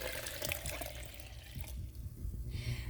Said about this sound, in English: 1 cup of oatmeal, 4 cups of water. Just pour that right in.